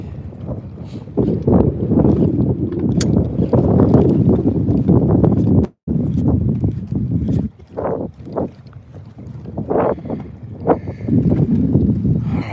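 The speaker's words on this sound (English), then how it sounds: "the wind is blowing pretty good out here too" Strong wind buffeting the microphone out on a lake from a bass fishing boat, loud rumbling gusts that drop out briefly and surge back.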